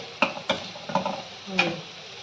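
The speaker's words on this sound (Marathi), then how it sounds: "बटाटा असा परतून घ्यायचा." Potato pieces are stirred and sautéed in oil in a pan for sabudana khichadi, heard as a few close spatula scrapes and clinks over a soft sizzle.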